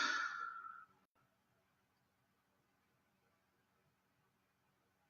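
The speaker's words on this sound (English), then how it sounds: "and exhale out the mouth." A single deep, breathy exhale out through the mouth during a calm guided relaxation, soft and close, lasting under a second and followed by near silence.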